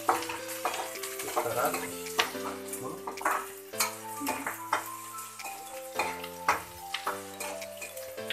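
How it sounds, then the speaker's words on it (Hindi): Chow mein noodles and cabbage being stir-fried in a pan, with a continuous sizzle and repeated scraping clinks of a spatula tossing the food, while someone speaks briefly. "इसको अच्छी तरह से मिक्स कर लेंगे"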